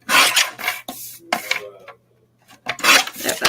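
Rasping, scraping strokes of a dark wooden frame being trimmed to size, in three loud bursts separated by short pauses and a quieter stretch, with no talk.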